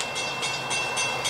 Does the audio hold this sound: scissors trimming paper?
no